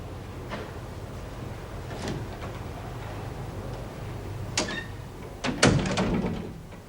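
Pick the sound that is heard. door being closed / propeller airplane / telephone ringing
door being closed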